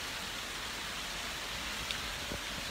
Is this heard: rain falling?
yes